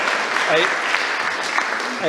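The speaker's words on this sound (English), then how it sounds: "A round of applause for Matthias." At a startup demo day, the crowd applauds Matthias with brisk, dense clapping, while voices cut through the applause at a few points.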